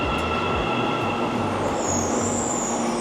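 An Almaty metro train rumbles steadily and loudly through a tunnel, with a continuous roar, low wheel drone and a faint high squeal, heard close from inside the car with no talking.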